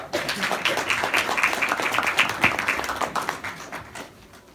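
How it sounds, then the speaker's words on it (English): An audience at a Harvard Business School Africa conference claps in a warm, dense round of applause that holds steady and then thins out near the end, with faint voices mixed in. "So with a warm round of applause,"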